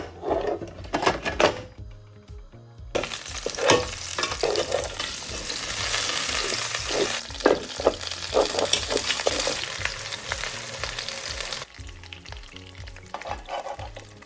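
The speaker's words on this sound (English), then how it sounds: "I'm going to sear the beef bones in there for around 10 minutes." Beef bones searing in hot olive oil in a pan give a loud, steady sizzle and spatter, with stirring scrapes throughout and a quieter stretch at the start and end.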